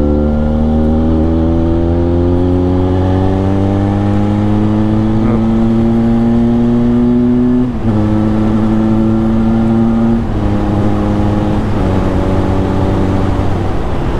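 A 2021 Benelli 502c motorcycle on its stock exhaust with the cat box fitted, revving up in long steady climbs with brief drops between gear changes, loud and continuous with no talk.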